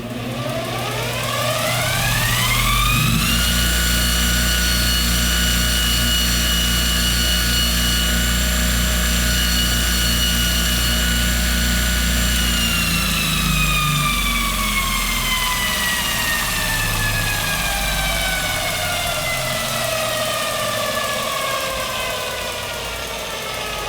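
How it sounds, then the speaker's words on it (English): A multi tool refinishing machine lightly sanding stress marks off a golf club, a loud continuous motor whine that rises in pitch as it spins up, holds, then slowly winds down over twenty seconds. "I'm going to lightly sand out these stress marks"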